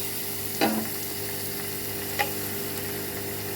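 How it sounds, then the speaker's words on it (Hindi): Onions fry in hot ghee with a continuous soft sizzle, broken by two quick scraping stirs, close up with no talk. "अच्छा, घी थोड़ा सा गर्म हो गया है। अब इसमें हम डालेंगे प्याज।"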